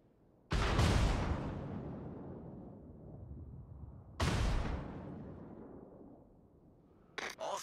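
Artillery fire strikes a designated target in a video game, two heavy booms a few seconds apart, each trailing a long rumbling decay, followed by a brief crackle at the end.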